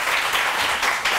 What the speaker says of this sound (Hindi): हो जाए ना तालियां इस बात में।